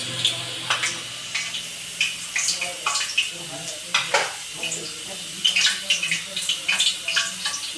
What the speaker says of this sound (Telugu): కళాయి తీసుకొని నూనె పోసుకొని, నూనె వేడెక్కాకండి అందులో శనగపప్పు